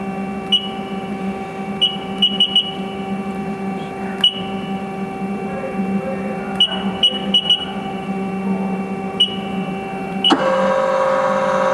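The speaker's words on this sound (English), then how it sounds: "We'll run the live tool." A 2018 Haas ST10Y CNC lathe spinning its live tool, a steady machine hum with tonal whine and repeated short electronic beeps, rising to a louder spin-up near the end.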